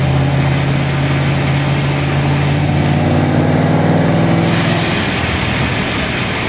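Supercharged hot-rod car engine with mild cams, idling loud and close with a dominant blower whine over a rumbling low drone, steady throughout.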